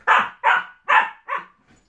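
Staffordshire bull terriers play fighting let out four loud, close barks in quick succession, evenly spaced, with a faint trailing sound after.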